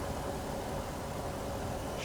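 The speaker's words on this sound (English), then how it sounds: "And right now the engine is not happy. It is stumbling." A Jeep truck engine with an EGR fault runs rough and stumbles, a steady close mechanical drone with uneven low-end pulsing throughout, no voices.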